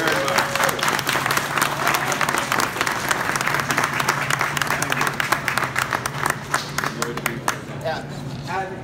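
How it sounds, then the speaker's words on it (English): Crowd applause at a ShopRite supermarket grand opening in Lake Ronkonkoma, loud dense clapping sustained for several seconds, close and continuous with a low steady hum beneath and some voices mixed in. "Just want to give you a round of applause."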